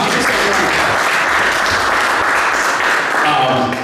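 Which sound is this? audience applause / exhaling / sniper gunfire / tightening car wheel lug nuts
audience applause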